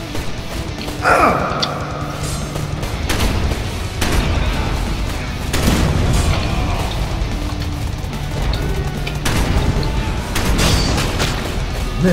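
Gunfire and explosions from the 2013 first-person shooter Rise of the Triad, with repeated booming blasts and bursts of shots spread throughout, loud and close.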